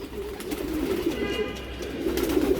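Racing pigeons at a Dhaka Mirpur loft coo steadily at bathing time, a low continuous murmur of several birds close by, with faint voices in the background.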